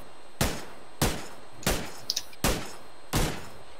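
Gunshots in the battle royale game PUBG, five sharp single reports spaced under a second apart at moderate distance, with a faint click between the third and fourth.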